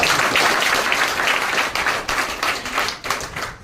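A crowd at a direct selling session in Mungeli claps loudly together, dense ragged applause that holds strong and then thins slightly toward the end, with no voices over it.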